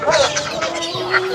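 A chicken clucks at the crowded historic Kaikartek haat, a market where ducks and ducklings are also sold; short, bright, warbling calls sit over a steady murmur of market noise.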